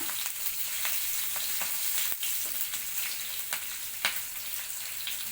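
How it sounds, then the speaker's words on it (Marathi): Urad dal and green chillies sautéing in a pan for coconut rice, a steady close sizzle with several sharp scraping stirs spaced through it, no voices. "नंतर उडदाची डाळ हिरव्या मिरच्या हे सगळे आपण चांगल्या परतून घेऊया"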